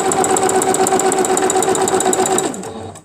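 A sewing machine runs steadily while stitching through quilt fabric, its fast even motor whir and needle chatter loud and close for over two seconds before winding down to a stop.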